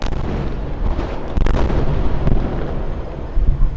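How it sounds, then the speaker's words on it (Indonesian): Heavy booms and rumbling blasts roll continuously through a city during an Iranian missile attack on Tel Aviv, with dense low thuds layered over a constant roar and no talk. "Suara ledakan juga terdengar di penjuru kota Tel Aviv dan Yerusalem."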